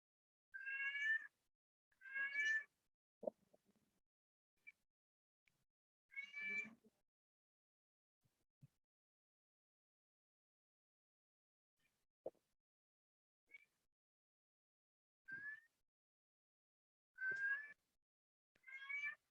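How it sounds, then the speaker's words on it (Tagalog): A pet cat meows repeatedly indoors, clear and fairly close, with about eight separate meows spaced irregularly and quiet gaps between them. "naingay yung pusa namin"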